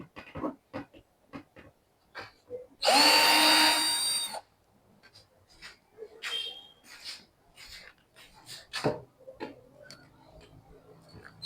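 A power tool briefly loosens nuts on a 60V 150Ah battery pack, giving one loud, dense burst of about a second and a half among scattered clicks and taps.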